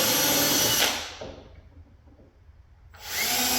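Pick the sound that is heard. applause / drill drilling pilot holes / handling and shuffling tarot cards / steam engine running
drill drilling pilot holes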